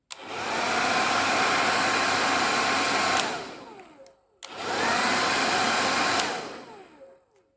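A hair dryer powered through a remote-control relay circuit runs at a loud, steady whoosh, cuts off and winds down, then starts again and stops a second time.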